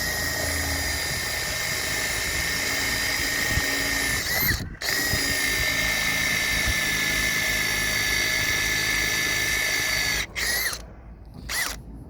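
A Makita 18-volt impact drill fitted with a TCT multi-purpose bit bores through a hardwood post, giving a loud, sustained high-pitched whine that cuts off briefly around the middle, then stops and restarts in short bursts near the end.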